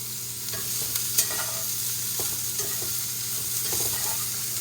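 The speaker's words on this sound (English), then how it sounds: "now I'm going to give this a toss" Sautéed vegetables hiss in a frying pan as they are tossed and stirred, a steady close sizzle broken by soft scraping and shuffling bursts.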